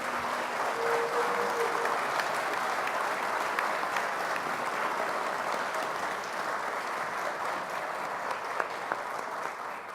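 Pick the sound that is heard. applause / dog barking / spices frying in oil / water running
applause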